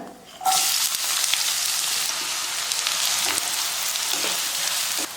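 Onions hit hot oil with a sudden loud sizzle that settles into a steady, crackling fry, close up and continuous with no talking.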